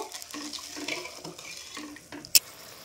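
Koi fish curry gravy coming to a boil in a pan, a soft close bubbling and sizzle with light stirring and one sharp metallic clink near the end.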